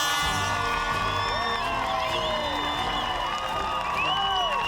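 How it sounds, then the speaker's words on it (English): Dense, loud crowd cheering and applause fill a Ninja Warrior arena after a barefoot competitor tops the wall, with whoops and shrill shouts rising throughout over steady clapping. "Give him a round of applause"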